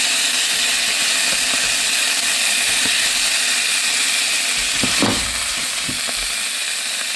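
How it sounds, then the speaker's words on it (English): Garlic and ginger saute in hot oil in a pan, giving a steady, loud broadband sizzle with a few soft stirring knocks and a brief louder scrape near the end. "we're gonna use this one for our sauteing all the garlic and the ginger in here"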